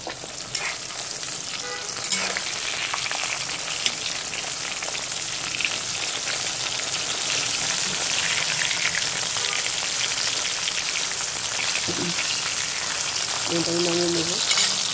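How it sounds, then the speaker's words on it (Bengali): Rohu fish fries in a pan of oil for a winter-vegetable curry, with a loud, continuous sizzle and crackle throughout, broken by a few brief clinks near the end. "আমার মাছ ভাজা হয়ে গেছে।"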